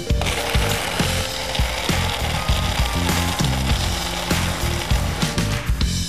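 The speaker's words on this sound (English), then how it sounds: "Just blend that in your favorite blender for about 30 to 45 seconds until it is fully blended and slush-tastic" A blender crushes ice cubes into a daiquiri, producing a loud, continuous grinding roar with rough, rhythmic chunky rattles throughout.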